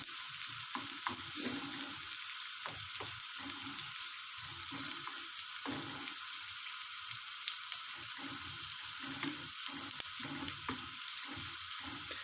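Onions fry in a pan with a steady broadband sizzle throughout, broken by soft scraping stirs and occasional low clinks, with no speech.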